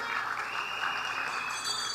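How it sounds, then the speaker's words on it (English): A crowd at a political party's Monday night forum applauds several MPs, a brief continuous patter of clapping at moderate distance. "a round of applause for them as well"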